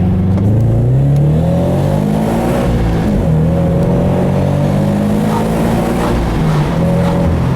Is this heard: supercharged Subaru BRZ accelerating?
yes